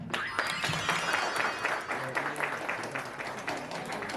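Audience applause for a speaker at a motivational talk, dense, steady clapping from many hands filling the room at moderate level, with a voice faintly mixed in.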